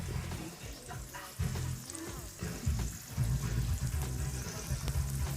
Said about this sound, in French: on va rajouter des courgettes cuites à la poêle avec les oignons